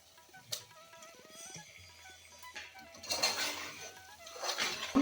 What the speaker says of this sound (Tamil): இது கூட வாஷ் பண்ணி வச்சுருக்கிற சிக்கனை சேர்த்துக்கலாங்க.